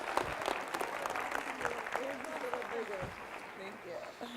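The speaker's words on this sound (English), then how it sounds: "Another round of applause for all of the challengers." Audience applause at a 2015 technology symposium session honoring panel challengers, a steady broadband wash of clapping from a crowd with a voice talking over it throughout.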